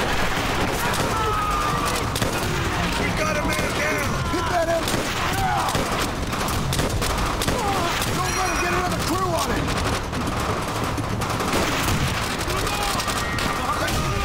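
Dense gunfire from a mounted machine gun in the World War II shooter Call of Duty: World at War, rapid continuous bursts with booms and battlefield noise layered over each other without a break.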